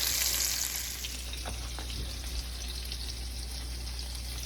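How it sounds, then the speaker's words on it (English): Chopped vegetables sauté in a pan for Salisbury steak, a steady close sizzle with light stirring scrapes and pops, loudest at the start and then settling to an even crackle. "We're gonna saute those down until they get a little translucent and soft."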